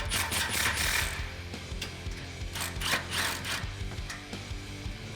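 Nuts are tightened on the exhaust flange of a 1999-2004 Mustang GT during a Borla cat-back fitting: quick bursts of close metallic ratchet clicks and rattles, uneven in rhythm, with short pauses between bursts.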